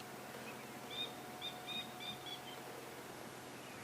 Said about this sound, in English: that's a Coqui francolin you can hear in the background